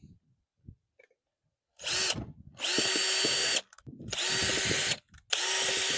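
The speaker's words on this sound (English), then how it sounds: "all I'm gonna do now is drill holes all up and down this" A power drill bores holes into a PVC pipe in three long, loud whirring bursts, each with a rising and falling motor pitch, separated by short pauses and quiet handling noises.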